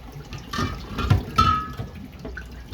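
Bleach solution drains from phytoplankton culture vessels after a 24-hour soak, giving a close, brief splashing and trickling of liquid with a few drips and gurgles, and no talk.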